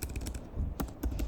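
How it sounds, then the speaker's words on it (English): Rapid, fairly loud clicking of computer keyboard keys during coding, a short run of close, uneven taps with no voice over it. "It's hard for me to type and talk at the same time."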